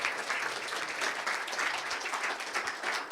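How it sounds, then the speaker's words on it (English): A crowd applauds panelists at a tech event, steady overlapping clapping at moderate volume, unbroken across the whole span. "I just want to give a round of applause to our panelists"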